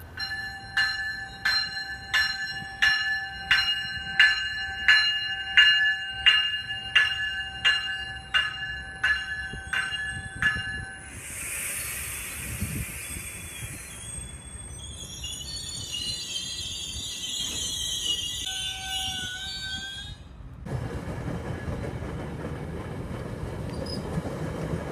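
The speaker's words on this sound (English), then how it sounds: "I hear a train." A train passes outdoors. A crossing bell rings in a regular repeating pattern for about ten seconds, then come a loud horn blast, squealing wheels and steady rumbling rail noise as the cars roll by.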